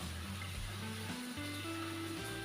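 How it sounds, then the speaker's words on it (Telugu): Fish pieces fry in hot oil in a pan over a low flame, a steady close-up sizzle and crackle with no talking. "ఈ ఆయిల్ హీట్ అయిన తర్వాత ఒక్కొక్క ఫిష్ పీస్ని కూడా ఆయిల్లో వేసుకొని సిమ్లో పెట్టుకొని అయితే బాగా వేయించుకుందామండి."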